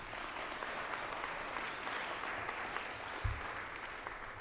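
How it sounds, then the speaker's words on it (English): An audience at an awards ceremony claps in steady, dense applause that fills the hall at moderate loudness, with a faint voice briefly underneath. "Let's give them a round of applause,"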